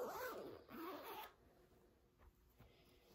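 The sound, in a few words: zipping up an invisible zipper on a prom dress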